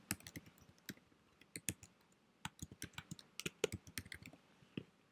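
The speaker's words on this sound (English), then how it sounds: "You would then type in the title" Quiet close-up typing on a computer keyboard, bursts of crisp key clicks separated by short pauses, with no one speaking.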